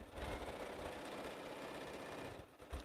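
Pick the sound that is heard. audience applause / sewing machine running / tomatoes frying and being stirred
sewing machine running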